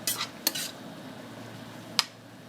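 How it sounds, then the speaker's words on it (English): A spoon scrapes and clinks against a pan while a shrimp and grits sauce with tasso, onions and garlic is deglazed. Three sharp metallic knocks stand out over a quiet background sizzle, with no talking. "as we're deglazing, we're just going to stir the bottom and get those wonderful brown bits up"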